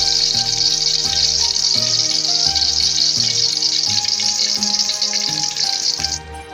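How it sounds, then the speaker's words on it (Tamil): Mustard seeds crackle and sizzle in hot sesame oil in a pan, a loud, steady frying hiss that runs unbroken over a low musical backing and fades at the very end. "நல்லெண்ணெய் நல்லா சூடாயிடுச்சு கடுகு போட்டுடலாம்"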